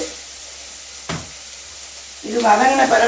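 Bitter gourd sautés in a pan for a tamarind-style kuzhambu as salt is stirred in: a soft sizzle, one sharp stirring knock, then louder sizzling and hissing toward the end, with a voice speaking over part of it.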